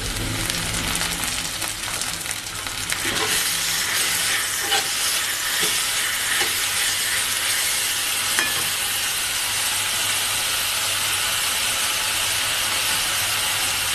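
Onion paste sizzles loudly in a hot pan while a Chital fish kata charchori is cooked, giving a steady, dense frying hiss with occasional stirring clinks and no talk.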